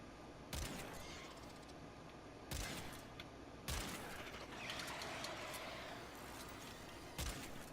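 Euphona Prime shotgun firing buckshot in Warframe, four sharp heavy blasts spaced a second or two apart over steady game ambience, with no talking.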